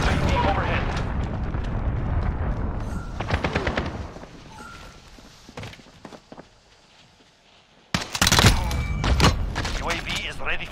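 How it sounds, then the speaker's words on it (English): A cruise missile strike in Call of Duty: Modern Warfare, a hardcore Kill Confirmed match, brings bursts of rapid gunfire and heavy booms, a near-silent lull, then a loud explosive blast, with voice callouts mixed in. "Enemy cruise missile."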